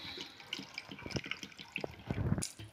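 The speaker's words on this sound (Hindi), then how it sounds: "अब मैं इसको उबालने के लिए पानी डाल रही हूँ।" Water poured into a cooking pot to boil sweet potatoes, a splashing, trickling pour with small clinks, fairly close and moderately quiet, with no talking.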